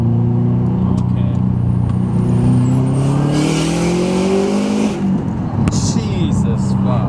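A Subaru WRX STI accelerates hard from inside the cabin, engine note rising steadily through the revs before a gear change, loud and close, with occupants talking over it.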